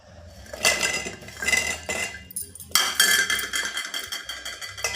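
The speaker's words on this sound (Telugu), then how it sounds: "వీటిని మనం కరిగించుకున్న చక్కెరలో వేయాలి ఫ్రెండ్స్" Fried gulab jamuns go into melted sugar syrup, with clattering metal and clinking utensil knocks against a pot in several bursts, close and fairly quiet, with no talking.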